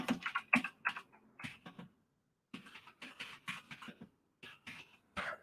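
Computer keyboard typing in quick, irregular bursts of clicks, with a pause of about half a second before the keystrokes resume, close and moderately quiet.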